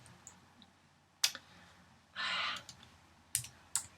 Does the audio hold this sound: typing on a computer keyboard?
yes